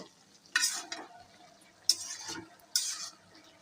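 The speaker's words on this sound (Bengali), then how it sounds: "টমেটো দেওয়ার পর ঢাকনাটা খুলে আমরা একটু নেড়ে চেড়ে দেবো।" Three distinct scraping strokes of a spatula through beans and tomatoes cooking in a pan, each a short metallic scrape with a faint sizzle between, quiet and close.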